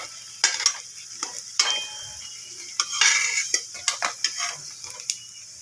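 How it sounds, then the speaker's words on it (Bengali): Flattened rice pakoda frying in oil: a quiet bubbling sizzle broken by sharp clinks and scrapes of a metal spoon against the pan at irregular intervals. "শক্ত হয়ে সুন্দরভাবে হচ্ছে ভাজা।"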